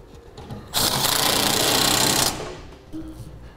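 A power tool runs 13-millimeter heat shield bolts into a 2011 GMC Sierra, a loud buzzing whir lasting about a second and a half, followed by a softer, briefer burst.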